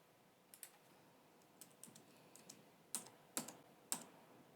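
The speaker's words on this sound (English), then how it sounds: "Into the input box, I'll type the letters F," Letters typed on a computer keyboard into an input box, a few light scattered keystrokes followed by three sharper, louder presses near the end, close and quiet in a still room.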